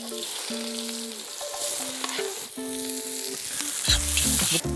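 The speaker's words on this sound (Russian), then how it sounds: "Лук немного обжарили" Onions sizzle steadily in hot oil left over from cooking beans, a dense continuous frying hiss with faint utensil scrapes, close and fairly loud with no talking.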